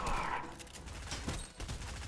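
Enemy gunfire in the Fortnite video game, with rapid bursts of shots and clattering impacts crowding together over a couple of seconds, moderately loud amid game noise.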